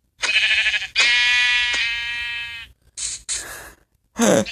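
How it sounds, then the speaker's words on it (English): Sheep in the game Minecraft bleat loudly and close by, several long wavering calls in a row followed by a couple of shorter bleats, with no talking over them. "Who comes here? Bad sheep. Bad. Go over there."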